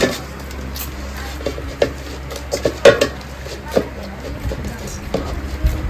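Dough is massaged with oil in a bowl, giving soft intermittent taps, knocks and light clatters of the bowl at close range over a steady low background hum, with a few sharper knocks scattered through.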